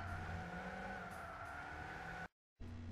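A Mini Cooper S hot hatchback hums along with a steady engine drone, cutting out briefly before resuming, with no voices.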